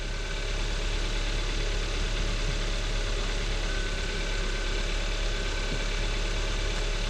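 A car engine idles steadily with a low continuous hum and faint mechanical ticking, close and even, with no voices.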